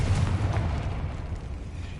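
A Confringo spell blast in Hogwarts Legacy, played on PS5 Pro: a dense, rumbling explosion right at the start, loud and low, then a sustained roar that slowly fades.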